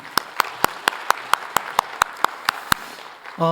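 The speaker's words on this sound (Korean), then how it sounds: "또 선교위원회 너무 고생하셨는데 한 번 더 박수하겠습니다." Applause in a church congregation, heard as a steady run of about a dozen crisp, evenly spaced claps close to the microphone over a quiet room, ending with a short murmur of voice.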